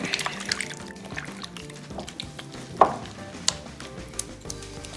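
Olive oil marinade for sockeye salmon and shrimp being stirred by hand in a bowl, with soft wet swishing and scraping and one sharper clink partway through, close and fairly quiet.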